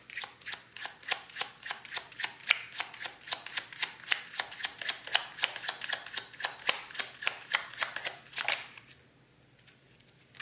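Tarot-style emotion cards riffled and shuffled, a long run of crisp rapid flicks at a steady rhythm, close and fairly loud, stopping abruptly near the end to leave quiet room tone.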